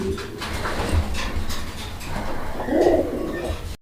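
Fancy pigeons cooing in a noisy sale setting in Bangladesh, a soft continuous murmur of birds with a clearer throaty coo near the end.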